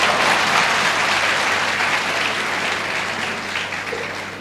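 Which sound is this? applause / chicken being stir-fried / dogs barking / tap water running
applause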